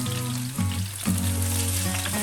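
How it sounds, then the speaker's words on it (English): Eggplant and potato pieces frying in hot pork lard in a pot over medium heat, giving a loud, continuous sizzle with brief stirring shifts, close up and free of talk. "Add the eggplants and potato in."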